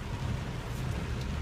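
Steady downpour of non-stop rain during a rainstorm, a dense continuous wash with low rumbling underneath, close and fairly quiet throughout with no voices.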